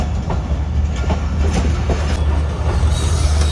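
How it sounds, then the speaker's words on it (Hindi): The Bolan Mail passenger train rolls along the rails into Kotri with a loud, steady rumble and a faint rhythmic clatter of wheels throughout. "तो कोटरी शहर में एंटर हो चुकी है हमारी ट्रेन।"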